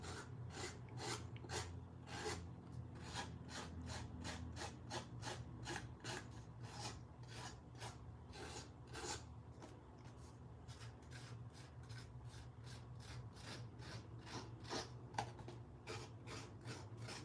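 Paper card edges scraped and rubbed by hand, a fast steady series of dry rasping strokes, each short and crisp, running close and continuous throughout with no talking.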